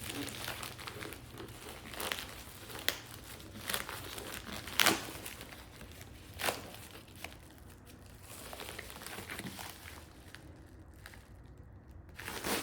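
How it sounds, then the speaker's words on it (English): Plastic wrapping is peeled off a newly bought book with close crinkling and crackling bursts, a few sharper tearing rustles, then quieter handling toward the end. "So this is still packaged. And let me go ahead and unwrap this one."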